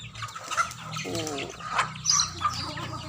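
Chickens and pigeons cluck and coo together nearby in a busy, overlapping chorus, with short squawks and cackles breaking through.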